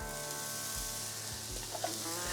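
Onions frying in hot oil on a griddle while hash browns are made diner style: a steady, dense sizzle close by with soft low thumps, and no talking.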